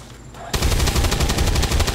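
Rapid automatic gunfire from the video game XCOM 2, a loud burst of repeated shots starting abruptly after a brief quiet moment and hammering on steadily to the end.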